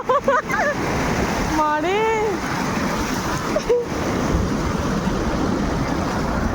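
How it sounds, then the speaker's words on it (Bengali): Big sea waves roll and break at Puri beach, a steady loud wash of surf under brief shouting voices and a few tonal calls early on. "ওটা বড় ঢেউ আসছে"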